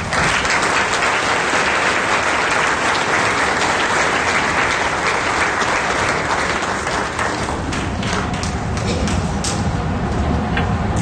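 Loud, sustained audience applause filling a hall at a school commencement ceremony as the speaker is welcomed, dense clapping throughout that thins slightly toward the end.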